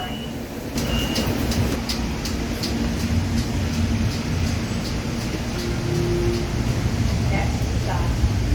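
A commuter train to Hoboken Terminal hums and rumbles steadily from inside the car, with a low drone and light rattling throughout, loud and continuous.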